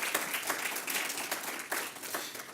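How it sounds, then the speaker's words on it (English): Applause for board members at a community workforce celebration in Long Beach, a moderate crowd clapping with audible individual hand strikes, pulsing unevenly over a couple of seconds. "let's give them a round of applause"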